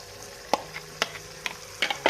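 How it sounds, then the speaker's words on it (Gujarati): Coated potatoes sizzle and fry in a pan for bhungra batata while being stirred, with a steady low sizzle broken by several sharp scraping clicks of the spoon at uneven intervals, no talk. "અને બધા જ બટેટાને આમાં સારી રીતે મિક્સ કરી દઈશું અને ઉપર નીચે હલાવતા રહીશું અને મિક્સ કરશું"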